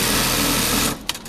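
A JUKI LK-1900HS bartack industrial sewing machine running, a loud steady mechanical whir for about a second that then cuts off into a few faint clicks.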